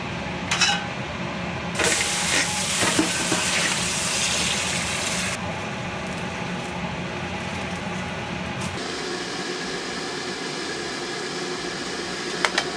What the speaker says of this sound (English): Okay, wash the wok.